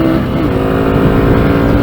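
Honda NSF100 motorcycle, made around 2020, revving high while being ridden hard, a loud, steady, buzzing engine note held throughout with no voices over it.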